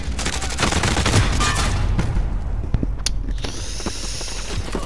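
Heavy, loud automatic gunfire crackles in sustained rapid bursts in the battle royale shooter Call of Duty Warzone, then tails off into scattered single shots and mechanical clatter.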